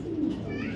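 Racing pigeons coo in a single soft, low throaty call, close and brief against a faint background hum.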